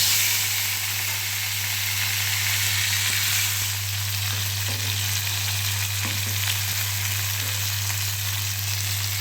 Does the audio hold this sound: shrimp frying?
yes